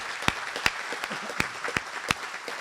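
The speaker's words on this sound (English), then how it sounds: "Let's give them a round of applause." Applause from attendees at a Mayor's Good Friday Breakfast in 2023: a soft wash of clapping punctuated by several sharp, louder individual claps at irregular intervals, heard fairly near.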